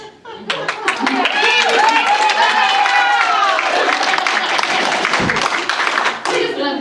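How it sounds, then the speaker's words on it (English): Church congregation applauding during a service, a steady wash of clapping with cheering voices and crowd chatter mixed in for several seconds. "We just love to applaud and share the applause"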